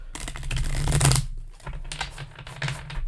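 Tarot cards shuffled close up: a dense burst of rapid riffling clicks and flutters for about a second, a brief pause, then a second softer run of quick card shuffling, with no talking.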